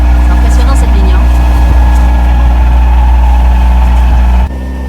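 A loud, steady sailboat engine drones at low pitch throughout while motoring at sea, a constant rumble that drops abruptly near the end.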